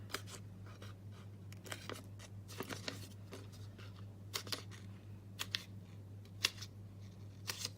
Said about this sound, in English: I might cut some sides up